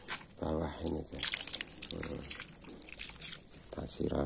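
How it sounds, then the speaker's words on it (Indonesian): Water is poured over a bonsai so it soaks straight down into the soil, trickling and splashing in short bursts beneath a voice speaking Indonesian. "Kita siram biar air langsung bawah ini"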